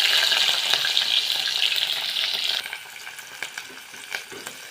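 Cumin, mustard seeds and green chilies sizzle in hot oil, a loud bright crackle for about two and a half seconds that drops to a softer, sputtering fry with scattered pops.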